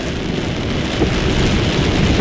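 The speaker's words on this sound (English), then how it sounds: "it's pouring so much" Heavy rain pours down on a car during a drive, a dense, steady hiss of drops drumming close on the roof and windshield with no break, loud and continuous throughout.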